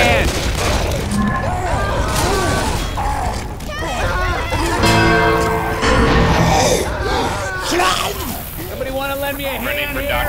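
Gunfire in Left 4 Dead 2 at the Dark Carnival, bursts of shots and booms amid chaotic zombie-fight noise, with players talking loudly over it.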